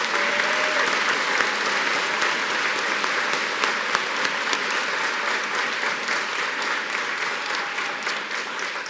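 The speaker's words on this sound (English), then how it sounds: "Let's give them one more round of applause." Sustained, loud applause from a large audience at a December university commencement ceremony, a continuous wash of clapping that holds steady for about nine seconds.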